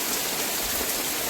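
Heavy rain falling on a village, a dense, steady hiss of downpour with no pauses, loud and close for the whole moment.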